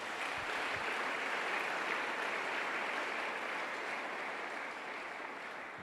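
A church congregation applauding and acclaiming the Lord, a steady wash of dense clapping that holds evenly throughout, loud and continuous with no talk.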